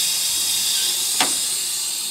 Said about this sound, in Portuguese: O bicho tá saindo vapor da porra aí.